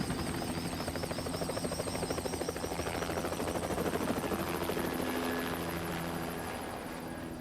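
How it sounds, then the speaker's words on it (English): Helicopter in the Hitman World of Assassination video game, a steady rapid rotor chop and turbine whine holding at moderate level before gradually fading slightly toward the end, with no talk. "That was the same helicopter I left the safe house in, if I recall."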